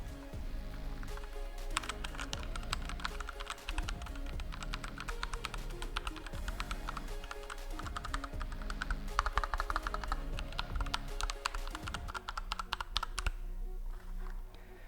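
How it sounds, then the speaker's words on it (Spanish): Mechanical switches on a Thunderobot KL3089 compact full-size keyboard clatter under fast, continuous typing, with dense irregular clicks and a few brief pauses, close and clear with no talking. "encontramos switches mecánicos con una durabilidad de 50 millones de pulsaciones y que suenan tal que"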